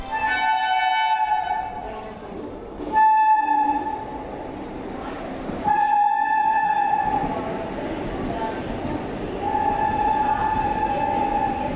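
A train horn sounds in several long, steady blasts over the rumble of the Chennai–Mysuru Vande Bharat express moving slowly through a station in India, with a few gaps between the calls.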